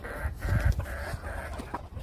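Chickens clucking among a flock that includes a black-and-gold bird, soft scattered calls at close range over a low murmur of background noise.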